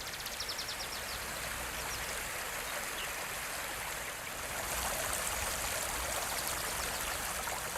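Mountain stream water rushes steadily over rocks in the Caribbean National Forest of Puerto Rico, a continuous close splashing flow that swells slightly midway, with no voices.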